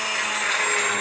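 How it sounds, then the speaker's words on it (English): An immersion blender whirs steadily through hot cauliflower soup in a pot on the stove, a loud, continuous motor whine with no talk. "Here I have immersion blender, and now I will blend it all."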